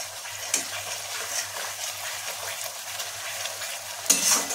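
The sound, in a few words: spice paste being stir-fried on low heat for parshe fish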